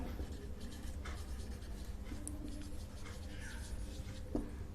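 A math question written out by hand, faint pen or chalk strokes scratching softly against a low background hum, with a light tap near the end.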